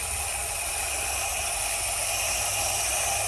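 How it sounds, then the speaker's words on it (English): A water hose sprays down a hot motor, giving a steady, close hiss of spray and sizzling steam that holds at an even level throughout. "Just so you can see that I'm going to spray everything down."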